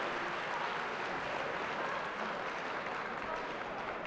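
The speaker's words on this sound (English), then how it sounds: "Let's give a round of applause for Mom" A crowd at a combat sports event, The Clash 4, gives a steady round of applause, the clapping fairly distant and evenly sustained from start to finish without speech.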